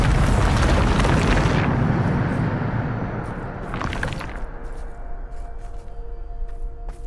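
A Bombarda explosion spell from the game Hogwarts Legacy booms loudly, followed by a second blast and a long rumbling, crackling decay with faint tinkling debris, no voices.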